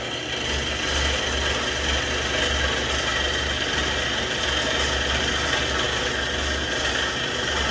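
A grinder bevels a piece as prep for TIG welding, running as a steady, loud whir with a low hum that holds unbroken throughout.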